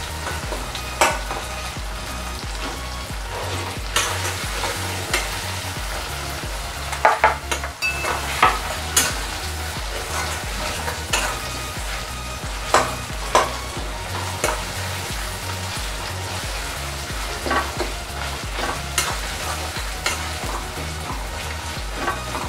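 Tomatoes frying in a pan for a shrimp and pointed gourd curry, giving a constant close sizzle with frequent spatula scrapes and knocks against the pan, no voices.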